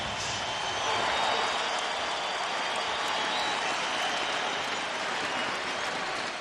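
A basketball arena crowd at a Lakers home game applauds Kobe Bryant as he leaves the court, a steady, loud wash of clapping and cheering that holds for several seconds.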